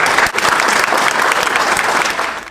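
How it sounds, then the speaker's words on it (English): Loud, dense applause from an audience at ReefStock Australia, a reef-keeping expo, greeting a presenter before a coral fragging demo. The clapping stays steady, then fades out at the end. "help me in welcoming with a big ReefStock Australia round of applause for Shane Danger"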